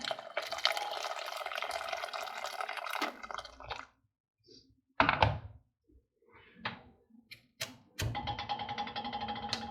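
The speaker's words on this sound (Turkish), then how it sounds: "Su ilave ediyorum." Water is poured onto washed green lentils in a pot for mujaddara: a steady rushing pour, a quieter gap with a few small clinks and drips, then a second sustained pour close by.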